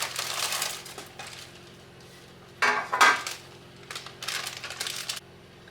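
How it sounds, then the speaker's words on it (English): Chopped onion tipped into a pot of homemade tomato sauce, giving a few short clattering, rustling drops with a sharp clink against the pot rising above a quiet kitchen background. "And now we're going to add the onion."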